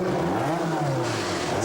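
A Lancia Martini sportscar driven by Riccardo Patrese pulls out of the Brands Hatch pits during a 1982 World Sportscar Championship race, its engine loud and close with a steady rising rev and no talking.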